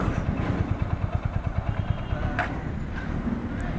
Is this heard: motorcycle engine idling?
yes